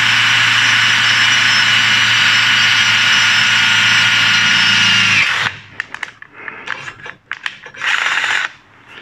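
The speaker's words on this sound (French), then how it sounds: "Voilà, je viens de terminer le perçage." A drill press bores into metal at speed step three, a loud, steady high whine with a low motor hum that runs for about five seconds. It then stops abruptly, followed by scattered clanks and handling noises.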